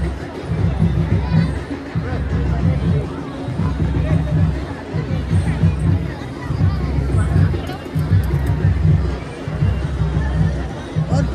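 A dense crowd of pilgrims at Har Ki Pauri in Haridwar, producing continuous loud chatter and babble of many voices, close and steady throughout.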